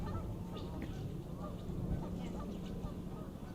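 A large flock of geese honks continuously on a mild late-winter day in New York City, overlapping calls layered over steady low city rumble, fairly close and dense throughout.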